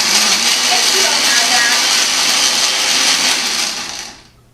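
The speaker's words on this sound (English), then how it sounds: "I have a great smoothie setting on my blender" A blender running on its smoothie setting whirs loudly at a constant high speed, then winds down and stops near the end.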